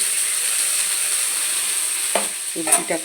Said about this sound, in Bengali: ভাজছি। তেল দিয়ে দিয়েছি, সাদা তেল।